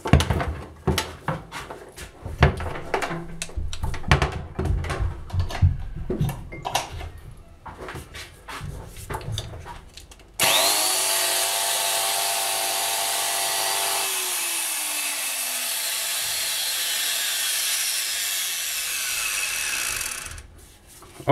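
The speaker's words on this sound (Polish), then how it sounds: "Oprócz pracy mechanizmu słychać również tutaj takie skwierczenie w tym miejscu." A Makita 9555NB angle grinder with worn brushes starts up after a stretch of knocking and handling noises, then runs at a steady loud whine with a crackling, sputtering edge before it cuts off.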